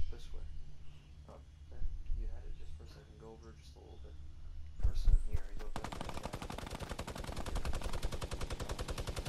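Rapid automatic gunfire in a modern video game, beginning partway through after people talk and continuing as a loud, dense rattling stream to the end.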